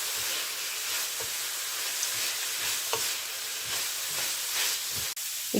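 Thinly sliced white cabbage stir-fried for spicy vegetable fried rice gives a steady, loud sizzle and steam hiss throughout, with soft periodic scrapes of stirring and no talking.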